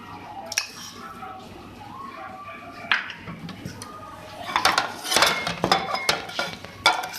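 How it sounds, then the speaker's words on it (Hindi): Metal utensil clinking and scraping in a bowl while spices such as chaat masala and salt are stirred into dahi bhalla, with sparse taps early and a denser run of sharp clinks near the end. "इसको मैं मिक्स कर लूँगी।"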